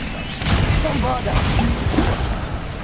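A Bombarda blasting spell cast in Hogwarts Legacy, a swooshing, crashing burst that swells and rumbles on for a few seconds with scattered debris-like clatter.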